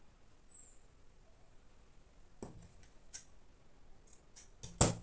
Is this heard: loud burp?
no